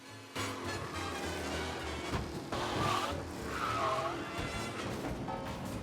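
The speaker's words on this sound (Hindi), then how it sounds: "एक मोड़ पे टायर्स फिसल जाते हैं और कंट्रोल हाथ से निकल जाता है" Car tires squeal and skid through a turn in the video game Mafia Definitive Edition, a continuous screeching smear over a steady engine roar, fairly faint and without talk.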